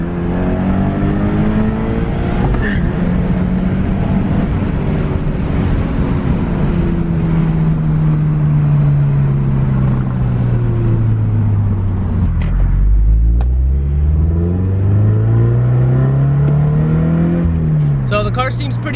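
A Scion FR-S revs up through a couple of hard acceleration pulls after a transmission and differential oil change, the engine note climbing, dropping with shifts and rising again close by and loud.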